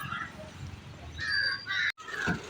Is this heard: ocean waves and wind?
no